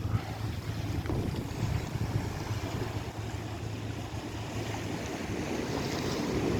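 KMP Aceh Hebat ferry underway at sea, a steady low engine drone with rushing water and wind buffeting the microphone throughout, no voices.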